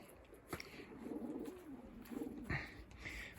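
A large ginger hen pigeon coos softly in a Ukrainian loft during the start of the breeding season, low throaty phrases with a couple of sharp knocks and rustles, faint and somewhat distant.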